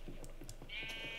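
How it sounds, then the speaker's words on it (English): Sheep in the Minecraft Alpha video game gives a short, quiet bleat near the end, heard over faint game background noise. "There's a sheep."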